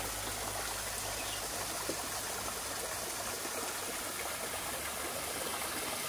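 Constant hiss of falling water, a steady even wash of sound with no voices.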